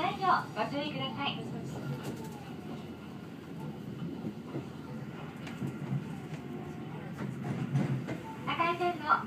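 The A-So-Boy limited express on the Hohi Line pulls away at the Tateno switchback, with a low rolling rumble and faint clacks and squeals of the railcars. A voice speaks briefly at the start and end.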